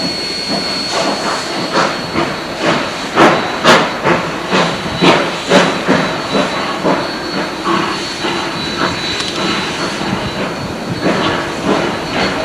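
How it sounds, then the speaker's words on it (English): A preserved steam rotary snowplow on the Cumbres and Toltec Railroad hisses loudly and steadily, with rhythmic chuffing pulses that slowly spread out and soften over several seconds, heard close and alone. "it was decided to steam up one of the two rotary snowplows preserved here"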